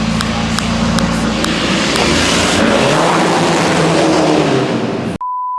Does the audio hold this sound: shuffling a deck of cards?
no